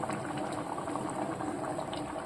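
Bitter gourd tamarind curry simmers in a pot with oil and jaggery, bubbling steadily as water boils off, a continuous close hiss and crackle of boiling liquid without pause.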